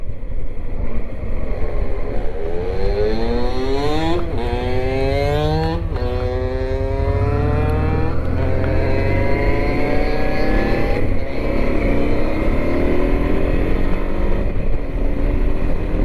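A Honda Transalp motorcycle engine revs hard on an evening ride, rising and falling through several gears with loud, near exhaust drone and wind over it.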